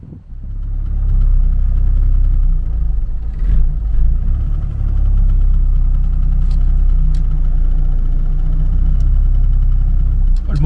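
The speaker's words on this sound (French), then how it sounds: "Le moteur il ronronne, hein." A Peugeot 202 convertible engine idles, still slightly cold, with a steady loud low rumble that holds evenly throughout, no talk.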